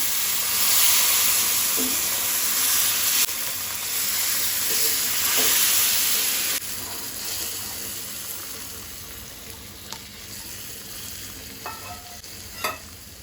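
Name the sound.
hot water poured into roasting semolina for rava sheera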